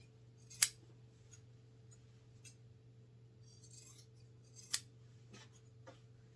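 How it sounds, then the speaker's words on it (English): Scissors snip through sewn fabric pieces at the darts of a bowl cozy, two crisp, distinct cuts about four seconds apart plus faint lighter snips, close and clear over a low steady hum. "Trim all the places where you sewed the darts."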